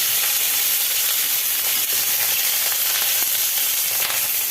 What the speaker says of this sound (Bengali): তেল গরম হওয়ার পরে তেলের মধ্যে পটলগুলো দিয়ে দেওয়া হলো